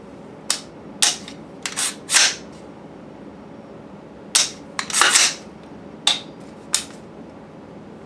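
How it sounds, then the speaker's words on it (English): A gun is dry fired, producing a series of crisp, sharp trigger clicks, some single and some in quick pairs, irregularly spaced, close and otherwise quiet. "Practice dry firing your weapons."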